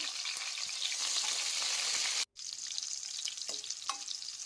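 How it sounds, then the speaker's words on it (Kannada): Crushed garlic and curry leaves frying in hot oil give a steady, loud sizzle and crackle, broken by one brief dropout and a few stirring clinks. "ಜಜ್ಜಿರುವಂಥ ಬೆಳ್ಳುಳ್ಳಿ ಹಾಕ್ಕೊಳ್ತೇನೆ, ಹಾಗೆ ಕರಿಬೇವು ಹಾಕ್ತೇನೆ. ಬೆಳ್ಳುಳ್ಳಿನ ಎಣ್ಣೆಯಲ್ಲಿ ಹುರ್ಕೋಬೇಕು."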